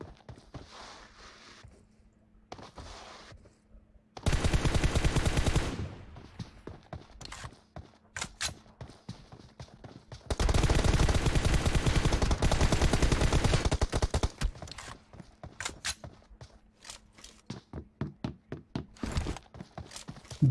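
Bursts of automatic gunfire from a team deathmatch in a video game, two long dense volleys separated by scattered single shots and short rattles, loud and close with no talk.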